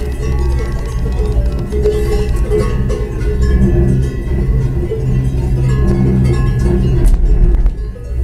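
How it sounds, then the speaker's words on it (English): Cowbells ringing in the Swiss Alps, loud and close, with irregular clanking strikes that overlap in a continuous jangle over a low background rumble. "That is the sound of the cowbell."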